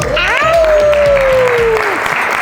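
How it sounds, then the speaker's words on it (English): An audience applauds loudly with sustained clapping, and a rising then falling whistle or cheer cuts through the noise. "Brian deserves another round of applause"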